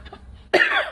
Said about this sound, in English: Trust me to cough at this moment.